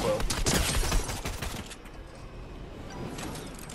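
Gunfire in Fortnite, a quick burst of several sharp shots near the start followed by scattered fainter pops under a noisy game background.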